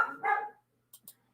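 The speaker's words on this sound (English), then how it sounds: "There go the dogs." Dogs bark outside at a distance, two faint barks followed after a pause by a couple of short soft sounds, in an otherwise quiet room.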